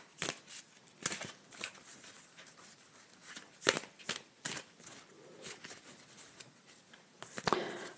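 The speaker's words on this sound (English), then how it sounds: "So we're going to do a little quiet as I'm shuffling." Playing cards being shuffled in a quiet room, a run of soft riffling bursts and flicks with short pauses between them, close and fairly faint, with no talking.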